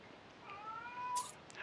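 A pet cat gives a single soft, rising meow, faint and close, followed by a brief rustle at the end.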